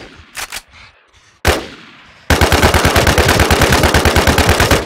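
Video game gun firing in rapid bursts, a few scattered shots first, then a long steady run of loud, evenly spaced rounds close up with no talk.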